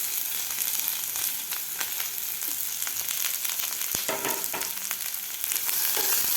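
Chopped onion sizzles and fries in hot oil in a pan, a continuous crackling hiss with occasional stirring clatter, close and steady with no talk.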